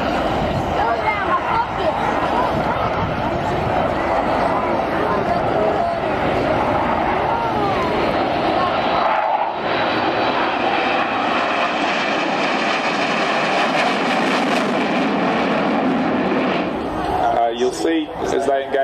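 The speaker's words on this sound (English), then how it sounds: "As they engage afterburner now, the aircraft will smartly accelerate and the noise will build." Military jet aircraft flying in box formation at a Point Cook airshow roar continuously, a dense broad engine rumble building and shifting in pitch over nearly twenty seconds, with a brief dip midway and a commentator's voice faintly under the noise.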